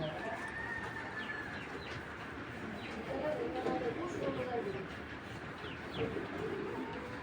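Racing pigeon chicks and adult pigeons coo softly in a loft, with low murmuring calls and light rustling under a steady background hum, while someone talks nearby.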